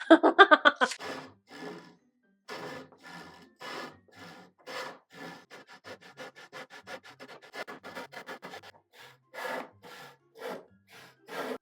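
A hand saw cutting wood for the legs of a tufting frame, rhythmic rasping strokes that start slow and quicken, near and fairly clear, after a short burst of voices at the start.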